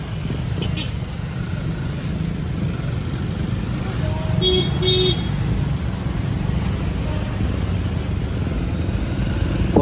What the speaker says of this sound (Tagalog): Grabe yung traffic talaga, oh.